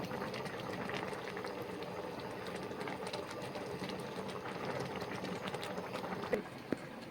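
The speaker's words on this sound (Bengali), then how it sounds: "পোস্ত বাটা জল দিয়ে দিচ্ছি।" A curry of poppy seed paste thinned with water, for a mung bori posto dish, bubbling at a steady boil in a pot, a continuous soft burbling with faint clicks near the end.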